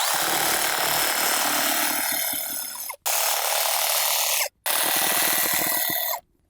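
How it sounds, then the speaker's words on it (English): Cordless grass shears trim a lawn edge around a playset with a steady, loud buzzing snip, cutting off abruptly twice during a few seconds of continuous trimming. "we'll see if we can edge around my playset with the little shears"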